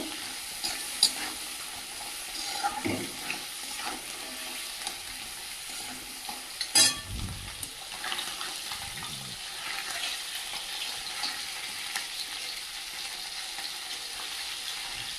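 Field-caught jiol fish seasoned with turmeric and salt fry in a pan, giving a moderate steady sizzle with occasional louder spatters and scraping stirs throughout.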